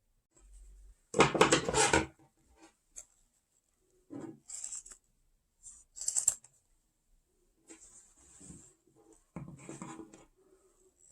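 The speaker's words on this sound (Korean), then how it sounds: "양쪽 머리를 맞추어서 가위로 다듬어서 잘라주세요" Scissors trim the hair of a handmade cloth doll, giving a few short, close snipping and rustling bursts separated by quiet pauses, soft and intermittent with no talking.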